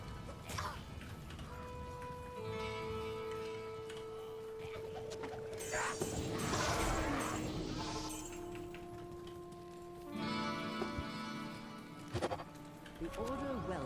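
Game sound from Diablo 2: Lord of Destruction, with cow-like creature cries and moans, tonal synthesized effects and bursts of clatter, heard under someone talking over the action.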